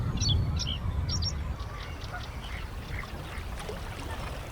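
Ducks and geese call across the Pen Ponds in Richmond Park, with a flurry of quacks and honks up front, then scattered fainter calls over a low wash of outdoor background noise.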